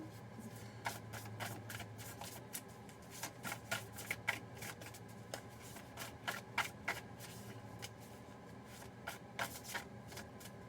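Tarot cards being shuffled by hand, close and soft, in quick irregular bursts of riffling snaps and flutters over a low room hum, with no voice.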